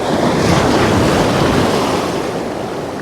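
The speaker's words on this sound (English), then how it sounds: "This sea is certainly coming in." Heavy sea surf surges up Philorth Beach in Aberdeenshire, a loud continuous wash of breaking waves mixed with gusting wind buffeting the microphone.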